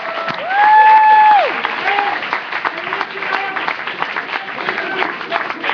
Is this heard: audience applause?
yes